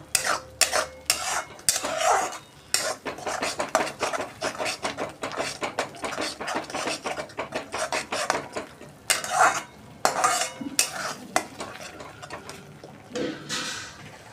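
Cashew curry masala stirred and sautéed in a pan, with a spoon scraping and clinking against the metal steadily and a soft sizzle running underneath throughout.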